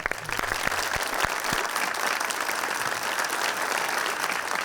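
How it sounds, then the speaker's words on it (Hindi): Loud, sustained audience applause fills the whole stretch as a studio crowd claps steadily at a talk show, a dense, even wash of hand claps with no voices standing out. "ओह, तालियां।"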